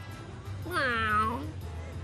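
A single cute cat in the video game Tales of Xillia 2 lets out one clear, drawn-out meow in the middle, rising then falling, over a low steady background hum.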